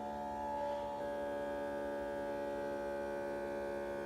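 A small vacuum pump motor hums steadily at a constant pitch as it draws air out of an espresso coffee canister, quiet and close, with a slight shift in tone about a second in.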